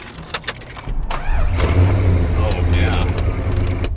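A modern luxury car's engine cranks and catches, settling into a steady low rumbling idle, close and loud, after a few clicks and small handling noises.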